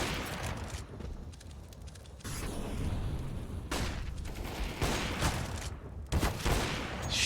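Repeated AK rifle bursts fire at long corner in a Counter-Strike match, a dense, sustained fusillade of sharp cracks with short lulls, loud and close throughout.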